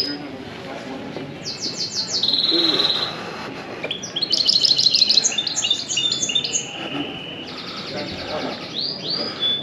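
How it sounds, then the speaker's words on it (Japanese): Small birds chirp and trill in a leafy, green stretch of Athens, bright rapid tweets arriving in several bursts at moderate distance over soft outdoor ambience and faint footsteps. "小鳥の鳴き声もよく聞こえる緑豊かなエリアですね"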